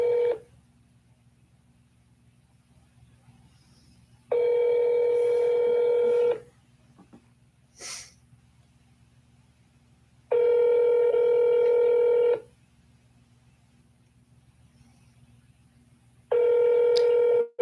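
Telephone keypad tones sound while dialing 0 for the operator, three loud steady two-second tones spaced evenly apart over a low line hum, with a brief faint click between.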